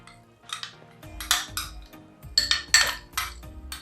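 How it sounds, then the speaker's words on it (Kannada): A soaked homemade all-purpose cleaner mixture is tipped into a large vessel. Several close clinks and scrapes of metal utensils against the pot come in short, uneven bursts with no talking. "ಇದನ್ನು ಒಂದು ದೊಡ್ಡ ಪಾತ್ರೆಗೆ ಹಾಕ್ಕೊಳ್ತಾ ಇದ್ದೀನಿ"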